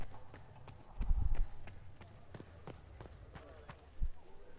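Video game horse hooves clip-clop in a steady trot, with a few heavier thuds, under a faint background murmur.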